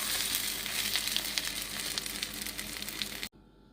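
Pointed gourd (potol) fries in hot oil with a steady, crackling sizzle that continues for over three seconds, then cuts off abruptly.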